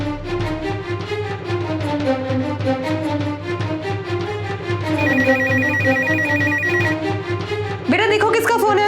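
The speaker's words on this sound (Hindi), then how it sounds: "बेटा देखो किसका फोन है?" A telephone rings indoors at home with a melodic ringtone, loud and repeating over background music, and voices are heard along with it.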